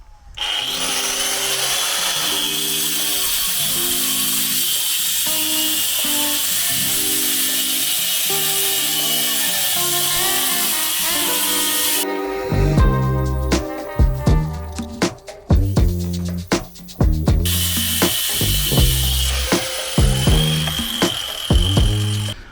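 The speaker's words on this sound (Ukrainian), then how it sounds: "Так, перевіримо, як болгарки справляються з бетоном." A Milwaukee angle grinder with a diamond disc cuts into concrete, a loud, steady grinding whine for about twelve seconds, then a series of choppy bursts as the cut starts and stops.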